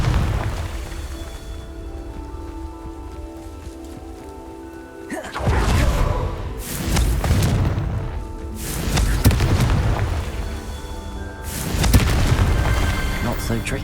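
Explosive Confringo spell blasts in Hogwarts Legacy, several heavy booming bursts with crackling debris following one another, loud and close, with a voice calling out over them.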